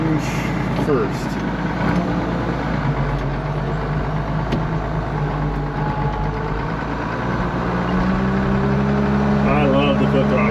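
A Ford TW5 tractor drives in high range, its diesel engine a steady, loud low rumble with shifting tonal whine as it moves toward a trailer, with a voice talking over it at times.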